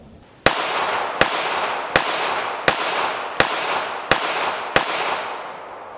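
Seven evenly spaced, sharp shots from a Ruger LCP Max .380 ACP compact pistol, each a loud crack with a long echoing tail, fired at a steady pace outdoors with no talking.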